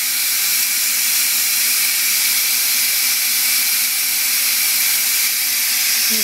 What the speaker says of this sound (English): you would have to release the pressure, and you do that carefully